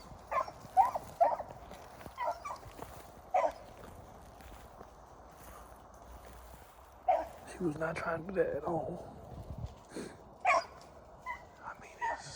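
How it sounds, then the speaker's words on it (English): A hunting dog runs a rabbit alone in dry gun-season cover, giving sharp barks and yips in scattered bursts at a moderate distance, while someone talks briefly partway through. "This dog running this rabbit by herself."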